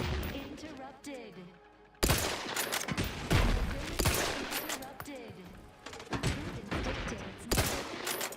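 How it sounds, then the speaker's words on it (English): Mortar fire in the video game The Outer Worlds 2 aimed at a building: a quiet lull breaks into loud repeated blasts and explosions, some overlapping, with talk and game sounds between them. "keep shooting mortars at this building"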